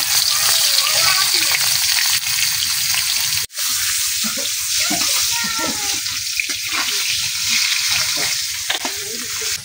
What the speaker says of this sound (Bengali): এই যে আমার তেলটা কিন্তু গরম হয়ে গেছে, এখন মাছটি জ্বালাইতেছি।